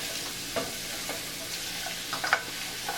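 Garlic and onions sizzle steadily in a hot pot, a continuous near frying hiss with a few soft stirring knocks and scrapes, no voices.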